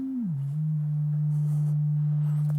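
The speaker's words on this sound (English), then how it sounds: "that's just the raw sine wave going straight into a VCA and out to the PA system" A raw sine wave from a modular synthesizer, sent through a VCA to a PA system, glides briefly downward in pitch and then settles into a steady, pure, unwavering tone that continues loudly to the end.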